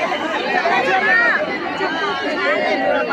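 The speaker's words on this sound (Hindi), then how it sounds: "बहुत भीड़ है" A dense crowd at a Durga Puja pandal, continuous overlapping chatter and babble of many voices close around, steady and loud throughout.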